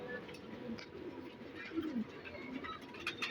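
A blue-eyed pigeon with crossed wing feathers coos softly nearby, low murmuring calls repeating over faint background noise.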